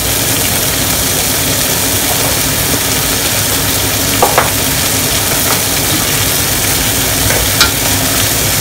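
Beef stir fry sizzles steadily in a hot pan as blanched carrots and broccoli are added, a continuous bright frying hiss with a few small crackles and no talking.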